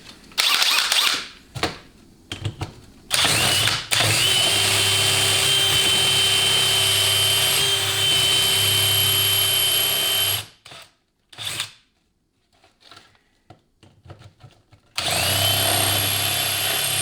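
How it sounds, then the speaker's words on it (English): A power drill bores a 9/32 to 5/16 inch hole in a 700R4 transmission part for a shift kit. Short bursts give way to a long, steady high whine lasting several seconds, then brief stop-start spurts, all close up. "the shift kit has you drill a hole here, 9/32 to 5/16, somewhere in there"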